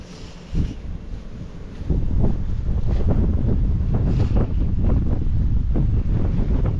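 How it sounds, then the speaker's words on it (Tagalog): Strong, cold wind buffets the microphone beside a tent on a mountaintop in a steady low roar, with gusts surging louder after the first couple of seconds. "Sobrang lamig yung hangin."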